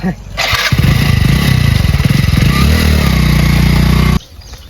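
A motorcycle engine starts and runs loudly up close, chugging steadily for a few seconds before cutting off, with voices nearby.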